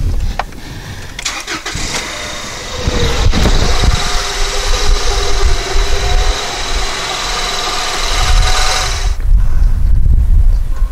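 A 1999 Honda Accord engine idles close by with a loud, continuous rumble that swells slightly partway through.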